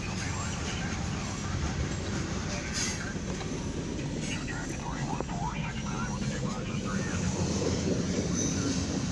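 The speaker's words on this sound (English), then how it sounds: "This has been a RCPE / CFE mixed freight steel train." A mixed freight and steel train on the RCPE/CFE line rolls past a road crossing with a continuous loud rumble and clatter of wheels, a faint squeal at times, and a voice speaking over it.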